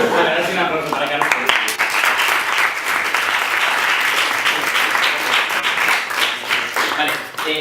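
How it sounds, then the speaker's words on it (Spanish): Carlos receives dense, continuous applause from an audience at a debate training session. The clapping is loud and close, and voices and cheering mix into the clapping throughout. "Ahora sí un aplauso para Carlos"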